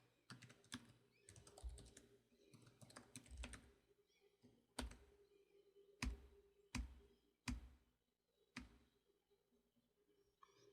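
Close computer keyboard typing of code, irregular clusters of crisp key clicks followed by several separate sharp keystrokes spaced about a second apart, quiet room, no talking.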